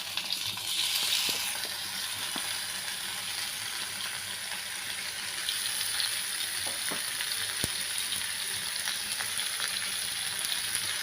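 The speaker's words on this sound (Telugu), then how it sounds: "ఆయిల్ వేసుకుని టమాటాలు వేసుకున్నాను." Tomatoes fry in a little oil in a pan, giving a steady, moderate sizzle with occasional faint clicks and stirring scrapes, and nobody talking.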